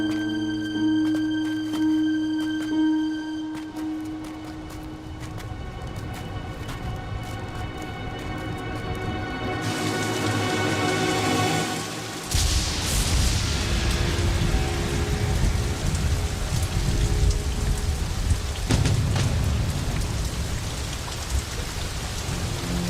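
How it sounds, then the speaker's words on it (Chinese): Heavy rain falls at night on a mountain path. Tonal music plays first, then a loud, steady downpour takes over, with low thunder rumbling through it. "下雨了"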